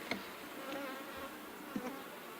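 Dense, steady buzz of many honeybees close by at the brood nest during a hive inspection, a continuous hum with a few brief louder passes, no talk.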